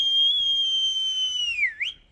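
A person whistles at Kalu waterfall near Malshej Ghat: one loud, sustained shrill note held nearly two seconds, then a quick dip and upward flick at the end, clear against quiet surroundings.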